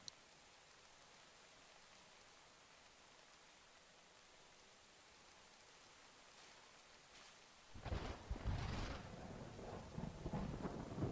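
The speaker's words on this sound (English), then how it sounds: "I think this is a thunderstorm, which is nice." Steady soft rain hisses through a video game thunderstorm, and after several quiet seconds a deep rolling thunder rumble swells in and keeps growling to the end, all faint and without voices.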